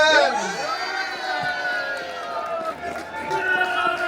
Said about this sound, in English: As always, the loudest crowd in the place.